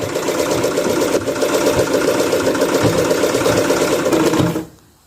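Loud, continuous rapid clatter of a pedal-powered treadle sewing machine stitching at a steady pace, then stopping abruptly near the end and leaving quiet.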